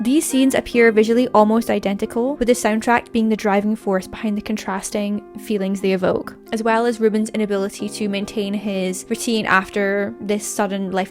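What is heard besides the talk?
No distinct noise like a dog, phone or traffic.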